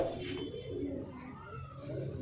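A brown Bajra pigeon, a high-flyer breed, coos in soft, throaty rolling phrases close by, repeating a few times over a faint background murmur.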